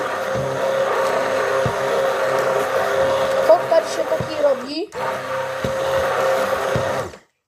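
A kitchen blender whirs steadily while mixing a banana and strawberry smoothie, loud and continuous with the motor pitch wavering, then briefly dipping before running again and stopping.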